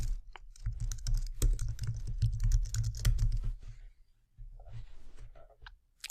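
Rapid typing on a computer keyboard, a dense run of close, crisp key clicks for about four seconds, then a pause and a few scattered clicks, fairly quiet with no voice.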